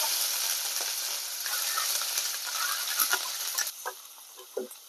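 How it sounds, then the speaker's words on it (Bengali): Onion paste frying in oil for a Bengali doi potol curry, a continuous bright sizzle that settles into softer crackling pops toward the end, close and alone. "পেঁয়াজ বাটাটাকে গোল্ডেন ব্রাউন করে ভেজে নেব।"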